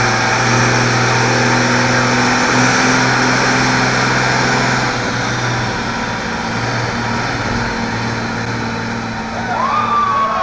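12-valve Cummins diesel truck engine making a dyno pull, a loud sustained roar with a steady droning tone that holds for about ten seconds and eases slightly near the end.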